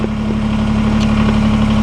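A tractor engine idles steadily and close by, with a deep, even low hum and a strong constant tone that stays unchanged throughout, with no talking.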